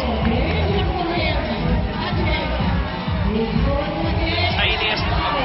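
A large crowd at a lead climbing world championship final in Arco cheers and yells continuously under an excited commentator's voice, loud and sustained roar with whoops.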